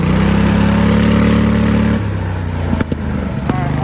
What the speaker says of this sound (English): this is topped out 4th gear